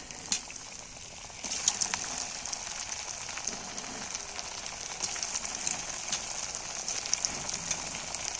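Pitha cakes frying in hot oil give a continuous, fairly quiet bubbling sizzle with scattered crackles and pops, heard close up with no talking.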